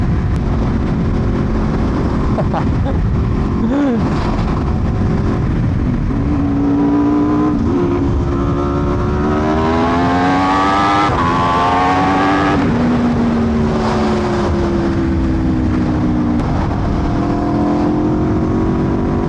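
An Aprilia 1100 Factory superbike engine running loud and close, a steady refined roar that climbs and falls through several revs with no talking over it.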